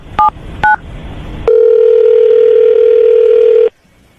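Two short touch-tone beeps from a telephone being dialed are followed by a steady, loud dial tone that holds for about two seconds, then cuts off abruptly.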